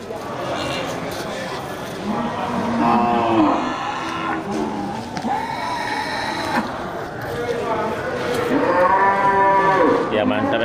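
Simmental beef cattle at a fattening-cattle sale low and moo repeatedly, several long drawn-out calls overlapping at close range, with hoof shuffling and people talking in the background throughout.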